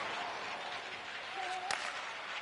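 A steady, dense roar from the crowd at a tied ice hockey playoff game (AHL/NHL), filling the whole moment with a brief sharp crack near the end.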